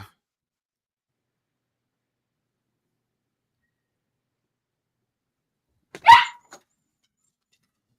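Dog barking indoors: one sharp, loud bark breaks a long silence, with a faint clack just before and another just after.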